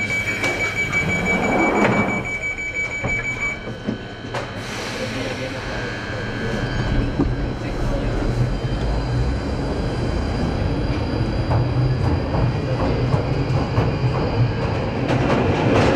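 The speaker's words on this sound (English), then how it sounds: "This train terminates at Morden." A London Underground train runs between Charing Cross and Embankment, its steady loud rumble and rattling wheels filling the carriage throughout, with a brief high tone early on and faint clicking in the background.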